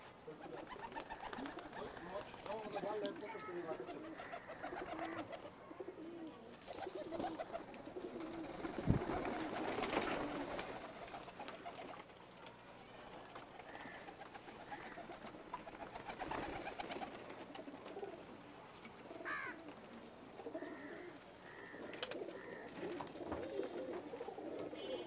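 Breeding pigeons in a home loft coo in a drawn-out, overlapping chorus, low and rolling at moderate volume, with scattered clicks, a few rustles and bumps, and a brief louder clatter partway through.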